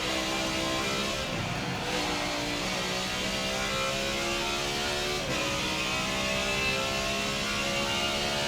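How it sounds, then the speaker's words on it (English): A car engine in Forza Motorsport 7 revs high, a loud, sustained harmonic whine with brief dips during gear shifts, heard alone without talk. "This thing revs high."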